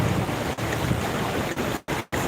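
Steady broadband wash of water on a flooded Dubai street after one day of rain, churned into waves by passing cars, with a few brief dropouts near the end.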